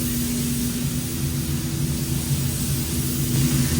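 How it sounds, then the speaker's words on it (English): Spray gun applying color-matched paint to a repaired plastic car bumper, a steady close hiss of compressed air and atomized paint holding level throughout with no talk. "he's spraying the paint that I got made, that I got color matched"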